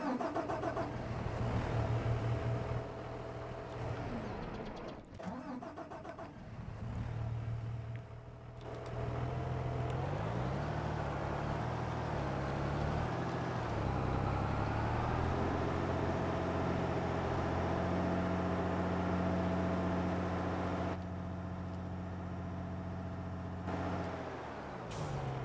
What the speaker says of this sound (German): Hören wir uns mal den Sound an.